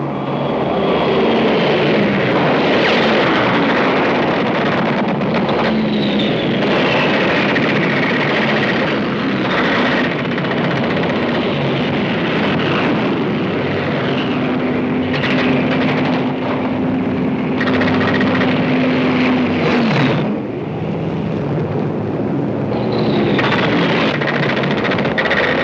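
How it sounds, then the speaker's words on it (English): Fighter planes and transport aircraft of a WWII North African air war drone loudly and continuously for the whole stretch, with engine roar rising and falling as planes pass; no distinct gunfire stands out. "Our fighters struck at their transport planes, still pouring men in through the intake valve, knocking them out of the sky by the hundreds."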